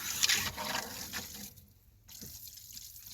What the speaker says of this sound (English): I can hear water flowing.